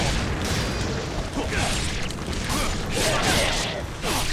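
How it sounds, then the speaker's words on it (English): Dense, busy Ninja Gaiden Sigma 2 game audio, fighting a water dragon, with repeated booming explosions and bursts layered over a constant noisy background, with some chatter mixed in. "Explosions everywhere."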